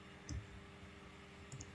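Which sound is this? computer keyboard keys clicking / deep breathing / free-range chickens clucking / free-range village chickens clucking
computer keyboard keys clicking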